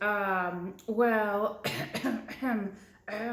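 A voice performs a brief, rough cough in the middle of spoken storytelling, with talking before and after it.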